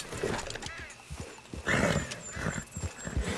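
A horse in Red Dead Redemption 2 snorts and whinnies amid clattering hooves and other game sound effects, fairly close and loud for a few seconds.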